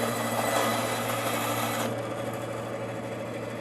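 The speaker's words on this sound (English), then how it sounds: "If you ever wondered what a bandsaw sounded like but you didn't want to see one, there you go." A bandsaw runs in a home workshop with a steady, close mechanical whir that drops to a lower, duller drone about halfway through.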